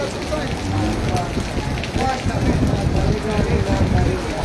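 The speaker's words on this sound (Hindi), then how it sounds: "बहुत तेज़ बारिश वेंदी पई हाली तक" Heavy monsoon rain pours down with a dense, continuous hiss and patter, loud and close, steady throughout.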